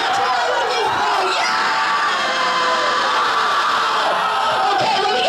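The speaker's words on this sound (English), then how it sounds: "I think we need more screaming behind me." A crowd of helpers screams and cheers loudly and continuously at close range, a dense wall of shouts and whoops with no pauses.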